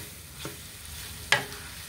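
Chicken pot pie filling being stirred in a pan makes a soft scrape and then a sharper clack of the spoon against the pan, over a faint sizzle, close by and brief.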